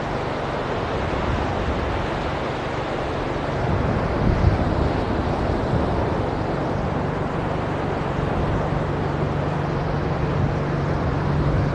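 Strong wind buffets the microphone on a beach at Side, Gündoğdu, in April, a loud continuous roar with gusting swells and low rumble throughout, no voices.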